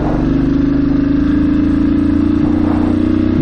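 A Royal Enfield Thunderbird 350X motorcycle riding a mountain ghat road, its single-cylinder engine thumping in a loud, steady, close rhythm with the pulse running throughout.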